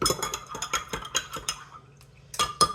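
A spoon stirs vinegar and raw farm milk in a bowl for biscuits, making quick repeated clinks and scrapes against the dish, close and fairly quiet, with a brief pause before a few final taps.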